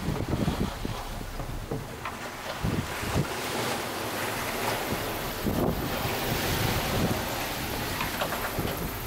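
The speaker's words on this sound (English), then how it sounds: "Couple of big waves growing out the back." Big waves in the Southern Ocean's Great Australian Bight surge and break around a sailing boat, with gusty wind buffeting the microphone and uneven rushes of water throughout.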